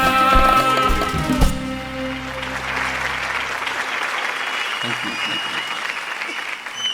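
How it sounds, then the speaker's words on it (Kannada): An audience at a Kannada music performance applauds steadily after a sung passage ends, the last sustained musical notes dying out under the clapping, which continues alone at moderate loudness. "ಚಪ್ಪಾಳೆ ಮುಂದುವರಿಸಬೇಕಾಗತ್ತೆ"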